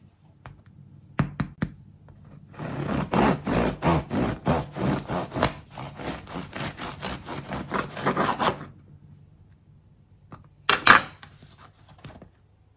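A knife saws through a cooled loaf of homemade no-knead bread in a run of quick rasping back-and-forth strokes, close and crisp, followed by a few knocks and a short final scrape.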